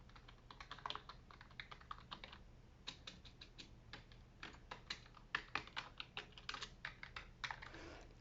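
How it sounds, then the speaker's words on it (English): Light, quick taps on an NPET K10 budget gaming keyboard, soft clicky keystrokes pattering in irregular clusters, close and quiet with no talking. "I'm going to do very light taps to see how much just noise there is when you do soft tapping on it."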